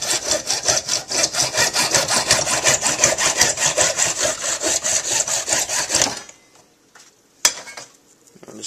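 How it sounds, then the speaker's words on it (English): Rhythmic back-and-forth strokes of a hand saw cut a short piece off scrap PVC pipe, loud and close for about six seconds, followed by quiet with a single sharp knock. "You're going to cut about a 1/4 inch piece off."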